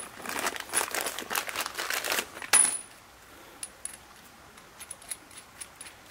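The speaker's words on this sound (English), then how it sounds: "let me open this plastic bag with my gloves on." A plastic bag is opened by gloved hands, giving a dense, close crinkling rustle for nearly three seconds that ends in a sharp crackle, followed by scattered faint ticks and rustles.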